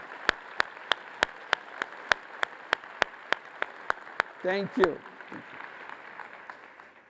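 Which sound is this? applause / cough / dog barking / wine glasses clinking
applause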